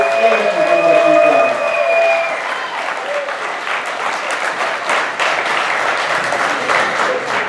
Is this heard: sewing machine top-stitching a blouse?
no